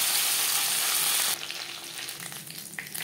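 Hilsa fish pieces and fish head fry in hot oil with a loud, dense sizzle that abruptly drops to a softer crackle with a few spatters.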